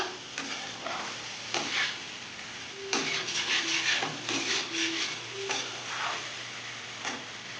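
Pointed gourd (potol) stir-fried in a pan as potol kasha, with repeated scraping stirs and bursts of sizzling over a low background hiss, loud and close.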